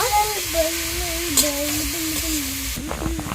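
Vegetables crackle and sizzle in a pan while being stirred, with a low humming tone running underneath and a few scraping stirs near the end.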